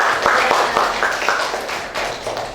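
Many hands clapping together in a classroom, a dense, steady patter of applause that carries on throughout at moderate loudness.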